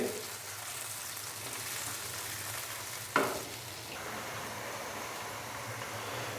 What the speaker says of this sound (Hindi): अच्छे से इसको मिक्स करेंगे।